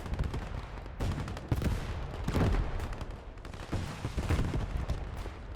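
Battle in the WWII game Gates of Hell, with dense, continuous gunfire and heavy artillery booms rolling over one another at moderate distance.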